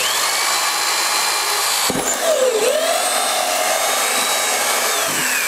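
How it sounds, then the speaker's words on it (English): A power drill bores a hole through a barrel for a hog roll, a loud steady high whine with a brief stop and restart midway and the pitch sagging under load, no talking. "So you drill your hole there."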